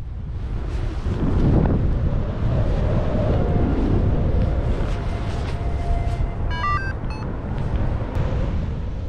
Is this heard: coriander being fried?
no